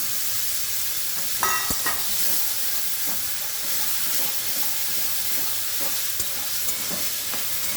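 Potatoes fry in a pan with tomato, salt and chilli powder, giving a steady close sizzle and hiss throughout, with occasional scrapes and clinks of stirring and no talk.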